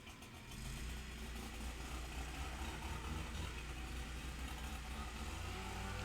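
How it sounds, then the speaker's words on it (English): A leaf blower kicks on outdoors after a brief lull and settles into a loud, steady droning roar with no breaks. "Not sure why he's starting with the blower."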